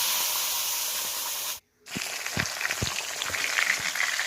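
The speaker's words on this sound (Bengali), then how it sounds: "তো মাছগুলো আমি এক এক করে সব মাছগুলো ভেজে উঠিয়ে নেব" Small, fresh whole fish frying lightly in hot oil one by one, a steady close hiss of spattering oil broken by a brief silence, then crackling resumes with scattered sharp pops.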